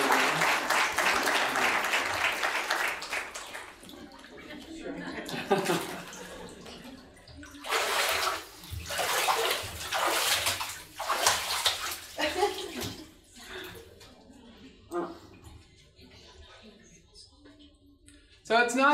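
Water sloshes and splashes loudly as a person is dipped into a warm baptismal pool during a church service, in repeated surging bursts while people talk and a crowd cheers and claps.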